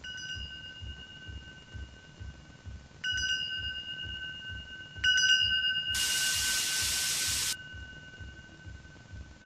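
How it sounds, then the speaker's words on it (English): Bells ring in the horror game Angels of Death, struck in a few clear, sustained tones spaced seconds apart, with a burst of hissing static in between. "Bells."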